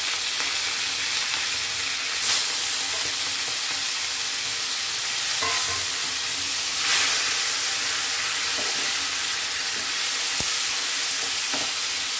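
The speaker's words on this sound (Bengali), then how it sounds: "অল্প তেল দিয়েছি তো, এবার চিংড়ি মাছগুলো দিয়ে দিচ্ছি" Prawns sizzle loudly and steadily in a little salted oil, a dense, close crackling hiss with occasional brief spits and stirring sounds throughout.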